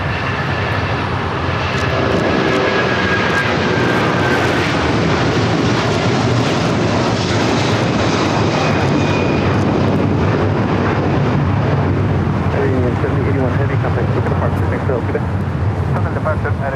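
Avianca Cargo jet flying for Aero Union at LAX, a loud, continuous jet engine roar close by with a high whine, and people talking over it throughout.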